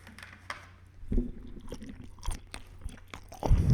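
Someone eats sushi in a hospital, close up and quiet, with irregular crunches and soft chewing sounds.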